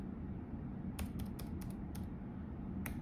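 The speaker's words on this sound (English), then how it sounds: "So I'm going to type in here" Quick bursts of computer keyboard keystrokes while entering an address to set up a home firewall, clicking in short clusters over a steady low hum, close and fairly quiet, no talk.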